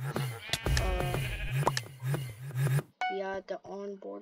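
Sheep in a Hypixel Minecraft game give repeated short, nasal bleats, with clicks and clinks between them and a quieter, higher run of bleats at the end.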